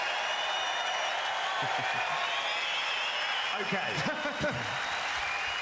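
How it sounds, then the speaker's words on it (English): A crowd at a Reform UK election rally in Birmingham applauds and cheers in a steady, dense roar, with a voice speaking briefly over it. "Rapturous applause"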